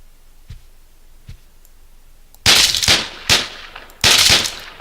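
Gunfire in the video game Deadbolt: after a quiet stretch with a couple of faint thuds, several loud, sharp bursts of shots ring out in quick clusters, close and punchy.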